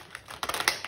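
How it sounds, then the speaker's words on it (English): Large tarot cards being shuffled by hand during a card reading, a quiet, fast run of soft papery riffles and taps lasting about a second with no talking. "These are another set of big cards that are a little harder to shuffle with."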